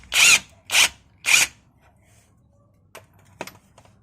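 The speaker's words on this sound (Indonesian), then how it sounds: "Di sini saya menggunakan impact." An impact wrench loosens a bolt on a 2014 Toyota Avanza G during a lateral bushing job, firing three sharp, loud rattling bursts in quick succession, followed by quieter clicks and clanks of tools.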